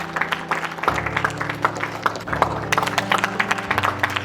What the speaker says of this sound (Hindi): जोरदार तालियों के साथ स्वागत करें संतोष जी का।